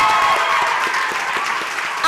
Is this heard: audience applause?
yes